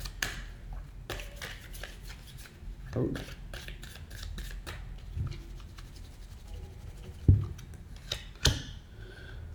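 Soft shuffling of tarot cards, a steady papery riffle and patter with occasional sharper taps, close by, and a brief spoken word partway through.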